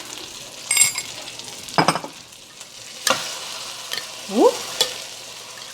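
Chicken frying in a pan for Parmesan chicken, with a few distinct scraping stirs over a soft sizzle, close, plus a brief voiced exclamation.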